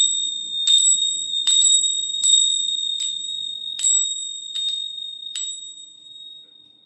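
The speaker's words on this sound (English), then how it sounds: "I'm about to ring these bells." Seven bright metallic bell strikes ring out one after another, each leaving a long shimmering tone that slowly fades, with faint murmuring underneath.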